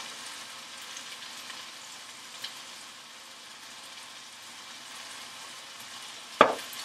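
Dryad's saddle mushrooms frying in butter with salt and pepper, stirred in the pan: a soft, steady low sizzle throughout, with a brief utensil scrape near the end.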